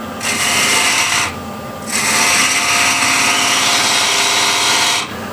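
A spindle gouge cuts a small dovetail into a cross-grain wooden bowl on a lathe, a loud, steady scraping hiss that pauses briefly twice, with no talking.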